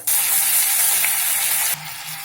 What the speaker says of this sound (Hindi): और इन मसालों को भून लेंगे जिससे मसाले की थोड़ी सी कच्चापन खत्म हो जाएगी।